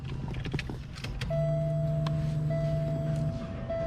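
Power window motor in the driver's front door of a 1999 Buick LaSabre whirring steadily for a couple of seconds after some handling clicks, close and fairly loud.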